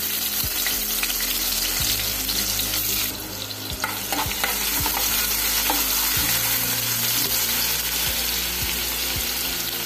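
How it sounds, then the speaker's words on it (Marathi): Plenty of crushed garlic frying in hot oil, a loud continuous sizzle with periodic low knocks and scrapes of a spatula throughout. "तेल घातलं आणि यात घातलं आपण भरपूर लसूण आणि ठेचलेली"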